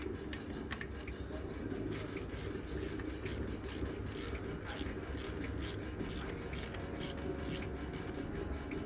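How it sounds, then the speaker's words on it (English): A ratchet tightens the front brake caliper bolts on a 2013 VW Polo, giving a steady run of close, crisp clicks at an even pace over a constant low background hum. "then what you do is obviously tighten it up with the ratchet"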